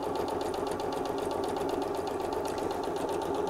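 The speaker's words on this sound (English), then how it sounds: "I'm going to sew only about 1/8 of an inch or 1 millimetre right up to the edge of the fabric" Close, steady whirring and rapid rhythmic clatter from a sewing machine running a straight stitch along the edge of two layers of fabric for a tea cosy, continuous throughout with no talking.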